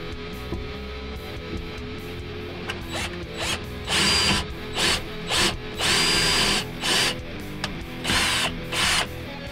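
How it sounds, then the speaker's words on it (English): Power drill boring four holes during motor and VFD installation work, several loud whirring bursts of a second or so each, separated by short pauses and trigger clicks, close to the microphone. "Let me go drill these four holes, then we'll come back, put the motor up"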